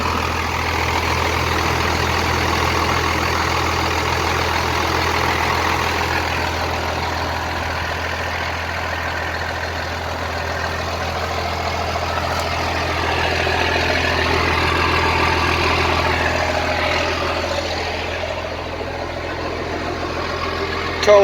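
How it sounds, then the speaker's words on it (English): A 1955 Ford truck fitted with a pre-intercooled 12-valve Cummins diesel and VE pump idles nearby, its low, even rumble steady throughout with no talk. "there she is, a 1955 Ford with a 12 valve"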